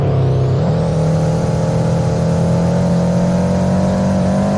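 A Subaru in the Roblox racing game Midnight Racing revs and drifts through a corner, with a loud, steady engine drone that rises slightly in pitch and stays continuous throughout.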